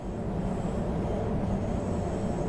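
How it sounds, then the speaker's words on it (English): A video game train rumbles along steadily with a low, continuous rolling drone and no talking. "The train accelerates quite nicely"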